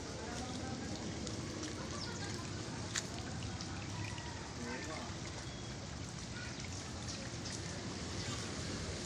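Steady rushing and trickling of rainwater running down a street after heavy rain, with dense patter throughout and no clear voices.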